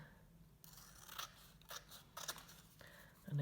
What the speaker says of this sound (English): a little bit of card, that's a little bit too big, so let me cut that down.